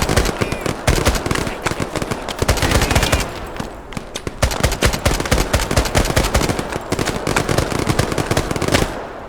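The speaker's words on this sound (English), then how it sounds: "Next tree, and we are shooting at somebody. Just adding my fire to it." Video game firefight gunfire, loud and near, with rapid automatic bursts and single shots crackling almost continuously, briefly easing near the middle before resuming in dense volleys.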